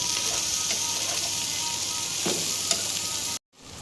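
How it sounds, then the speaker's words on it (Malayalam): Chopped cabbage sizzles steadily in hot goat ghee in a pan while being stirred, a close, continuous frying hiss with a few soft scraping stirs, before the sound cuts out abruptly near the end. "അരിഞ്ഞു വെച്ച കാബേജ് ഇട്ട് നന്നായി ഇളക്കി കുറച്ച് നേരം മൂടി വെക്കുക"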